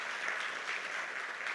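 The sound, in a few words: audience applauding visitors in church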